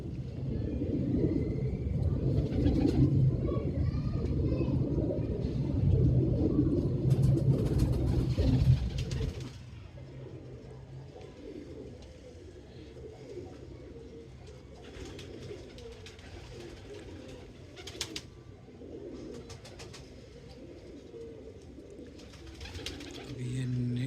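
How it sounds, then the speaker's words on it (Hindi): Champion racing pigeons coo on a rooftop loft in Karachi, low rumbling calls that are loud and close at first under traffic noise, then continue more faintly. "ये पिछले साल का चैंपियन कबूतर है"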